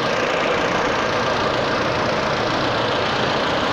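A Peugeot 208 engine idles smoothly after a repair for misfiring cylinders, a steady, even hum held close and constant with no talk.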